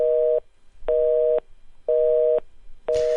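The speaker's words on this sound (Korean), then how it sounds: "인터뷰 중에 전화가 끊겨서" A telephone busy signal after a call drops during a radio interview, with a loud, close, steady two-tone beep repeating in even on-off pulses, four times.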